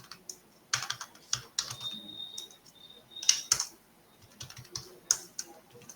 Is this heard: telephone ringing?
no